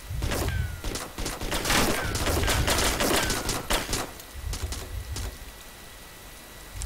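Dense bursts of rapid video-game gunfire crackle close by, overlapping volleys that thin out into scattered shots near the end.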